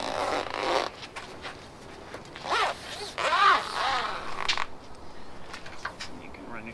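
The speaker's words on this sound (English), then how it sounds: "get your zipper started" An awning zipper is pulled in several quick rasping strokes, close and crisp, with pauses and light handling noises between pulls.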